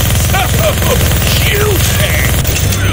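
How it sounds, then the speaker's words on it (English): Rapid, continuous minigun fire from the Deadpool video game, a loud dense rattling burst running the whole time, with voice chatter and whooshing game effects over it. "Gonna need both hands to shoot that minigun"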